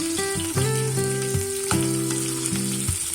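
Ginger garlic paste sizzles in a pan of oil for a soya chunks masala curry, a steady close frying hiss with bursts of crackle and faint stirring.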